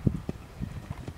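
Horse hooves clip-clop on ground at an uneven walking pace, several soft thuds close by, with light wind noise.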